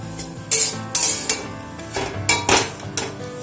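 A spoon scraping and knocking against a pan while egg chop filling is mixed with chaat masala, a series of short metallic clinks and stirring scrapes at close range.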